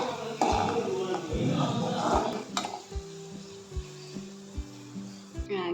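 Raisins fry in a pan for jackfruit payasam with a soft sizzle while a utensil scrapes and clinks against the pan in a steady, regular stirring rhythm, with speech early on.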